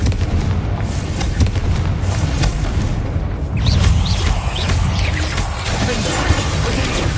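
Fiery Confringo spell blasts from Hogwarts Legacy combat: a loud, dense run of booming, crackling impacts with mechanical clatter throughout, one stronger burst in the middle, and no pause between hits.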